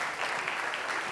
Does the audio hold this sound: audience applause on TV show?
yes